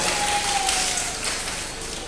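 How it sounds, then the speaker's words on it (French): Audience at a general assembly of activists, held on a rainy morning, applauding in a steady wash of clapping from a large gathering that fades slightly toward the end. "Applaudissez pour vous-même, s'il vous plaît"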